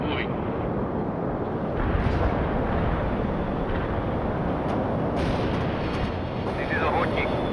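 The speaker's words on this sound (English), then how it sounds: "Anti-tank strike is inbound." Anti-tank strike explosions in the World in Conflict war game, a dense continuous rumble of booming blasts and artillery fire with faint radio chatter mixed in underneath.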